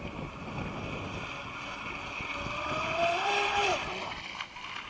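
A small boat's motor runs at three-quarter throttle on the water, a steady drone under wind noise, with a rising whine that climbs and then drops near the end.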